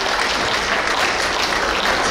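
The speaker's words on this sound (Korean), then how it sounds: "큰 박수로 환영해 주신 것에 대해서" An audience applauds steadily at a traditional Korean court hanbok fashion show, a dense, loud, continuous wash of many hands with no talking.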